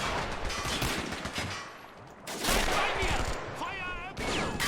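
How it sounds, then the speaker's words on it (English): A British Vickers machine gun fires in Men of War: Assault Squad during a 1941 Greece paratrooper battle, with dense rapid bursts broken by a short lull, and other combat noise mixed in. "Oh, looks like a British machine gun firing. Sounds like possibly a Bren gun, maybe a Maxim machine gun. Oh, yep, it's a Vickers."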